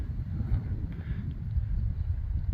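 Wind buffeting at a camp spot just off a hiking trail at Toll Springs, a low, steady rumbling gust close to the microphone for a couple of seconds.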